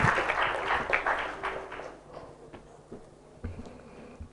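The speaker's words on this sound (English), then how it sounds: "Let's give them all a huge round of applause," Conference audience applause and clapping, louder at first and then thinning out into scattered claps and room noise.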